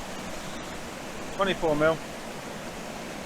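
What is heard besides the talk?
waterfall in Glencoe, Scotland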